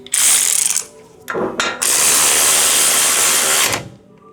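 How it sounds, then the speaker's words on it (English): An impact tool hammers loudly and up close while tightening brake caliper bolts on a 2010–2024 Toyota 4Runner 4.0L V6, in a short burst and then a long sustained rattling run. "go ahead and use the impact tool"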